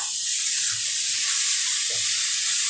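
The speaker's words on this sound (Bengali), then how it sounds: "সামান্য একটুখানি আমি জল দিয়ে দেবো কেননা মশলাটাকে থেকে ভাজতে হবে" A spice paste fries with a little water for an okra curry, sending up a loud, dense, continuous close sizzle with faint stirring knocks underneath.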